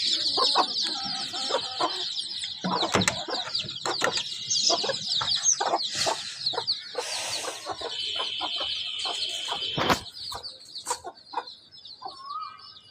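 Many chicks peep in a dense, steady high twitter in a village yard, with a hen clucking and scattered scratchy knocks nearby, loud and close throughout with no talking.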